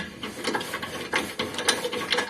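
A hand wrench works loose a stuck front shock absorber bolt on a Honda CR-V, giving repeated ratcheting clicks and metallic creaks in an uneven rhythm.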